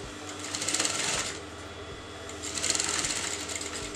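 Sewing machine stitching fabric around a kameez neckline, running in two steady bursts of rapid mechanical chatter, close and fairly loud, with a short slower pause between them.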